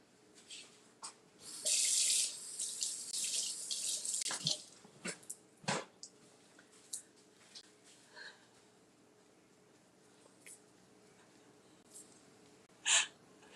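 Tap water runs into a sink as parsley is rinsed, a close hissing splash lasting a few seconds, followed by scattered clicks, thumps and handling noises in a quiet kitchen.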